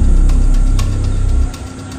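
A vehicle engine idles close by with a low, steady rumble that drops away after about a second and a half, during a group trip to a tarsier site.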